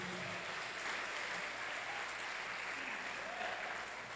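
Congregation applauding in a church service, welcoming visitors; a steady, fairly faint wash of clapping fills the whole stretch with a few voices faintly mixed in.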